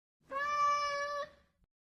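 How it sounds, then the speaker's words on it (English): A single cat meows once, a clear, close, tonal cry lasting about a second, with nothing else around it. "C for cat."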